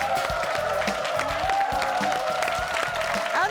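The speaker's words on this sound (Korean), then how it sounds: "큰 박수로 환영해 주십시오" Korean TV studio audience clapping to welcome a guest actress onto a talk show, a dense burst of applause with some cheering, steady and close for a few seconds.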